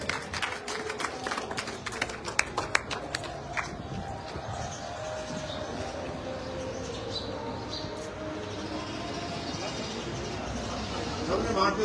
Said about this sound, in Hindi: और जोरदार तालियां बजाइए।